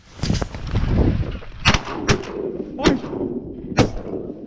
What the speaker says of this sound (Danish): Jeg skød 2 i et skud.